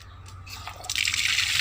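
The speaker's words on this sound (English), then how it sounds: "See, this lot of water is coming." Rainwater collected in tanks pours out of a pipeline, starting as faint drips and trickles, then swelling into a steady, close, hissing gush of flowing water.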